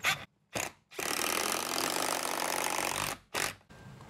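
An impact driver whirs steadily for about two seconds, driving a screw through a hinge into a door jamb and the lumber behind, framed by brief mechanical bursts before and after.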